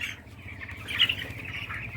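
Poultry chickens on a farm make a faint squawk over a low, steady droning background, with a brief louder cry near the middle and soft rustling throughout.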